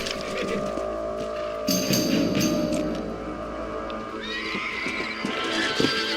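Horses in the Red Dead Redemption video game whinny loudly over a steady outdoor game ambience, with faint hoof clip-clops underneath and a second, thinner neigh toward the end.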